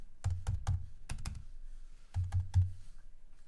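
Keys clatter on a computer keyboard in two short bursts of crisp, close clicks with a pause between them, no voices.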